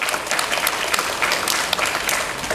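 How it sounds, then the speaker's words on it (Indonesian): Steady applause from a crowd of students during a campus visit by MAN 3 Tulungagung to UIN Sunan Kalijaga, dense and even throughout with no voices over it. "Boleh tepuk tangan dulu buat kita semua"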